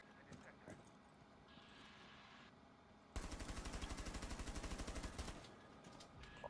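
Rapid automatic gunfire in Rainbow Six Siege, a long sustained burst of evenly spaced loud shots lasting a couple of seconds, preceded by quieter in-game ambience and followed by softer background sounds.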